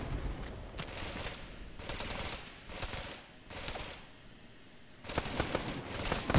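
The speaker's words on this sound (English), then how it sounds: "now we're being shot at" Rapid bursts of automatic gunfire and scattered shots in a Dien Bien Phu battle video game, loud crackling volleys separated by brief lulls.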